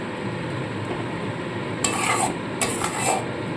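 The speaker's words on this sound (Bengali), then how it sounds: "মশলাটা খুব ভালো করে আমি কষিয়ে নেব" Bengali spice masala stir-fried in a pan for a bhola fish dish, with a low continuous sizzle and a few bursts of spatula scraping and clinking against the pan near the end.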